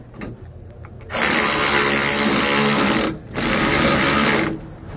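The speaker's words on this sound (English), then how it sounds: "come back and tighten down our U-bolt nuts. We'll use a 9/16 socket to tighten those down." A power tool with a 9/16 socket whirs in two sustained loud runs, tightening U-bolt nuts while installing a steering stabilizer on a 2020 Ford F-53 chassis, close up, with a short pause between the bursts.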